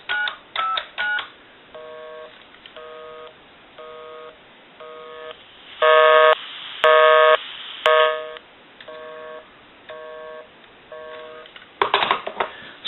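Busy signal heard through the amplified handset of a repaired Western Electric Princess touch-tone phone, a steady on-off pulsing tone with a few louder, harsher bursts and brief dialing beeps at the start.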